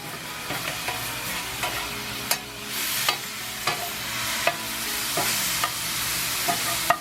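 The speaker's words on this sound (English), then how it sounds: "Getting my mushrooms and onions sauteed up." Mushrooms and onions sauté on a hot surface beside a cooking burger, a constant sizzle punctuated by regular sharp spatula scrapes and taps roughly every half second, close and clear without talking.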